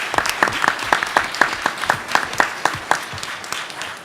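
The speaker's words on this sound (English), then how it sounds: "Give Kim a round of applause." Audience applause for a panelist at a Black innovators and venture capital session, a dense spatter of many hands clapping with uneven peaks, steady and fairly close throughout, with no talking over it.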